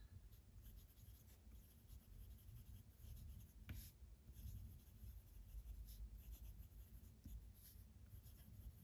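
A TWSBI Swipe fountain pen with a smooth broad nib scratches softly across paper while writing out a pangram, a faint, continuous rasp with small strokes and ticks throughout.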